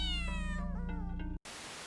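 A domestic cat meows in one long, drawn-out wavering cry, close and loud, that cuts off abruptly into a steady hiss of static.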